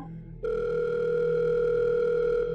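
A telephone dial tone starts abruptly after a brief click and holds a steady, continuous hum, clear and close.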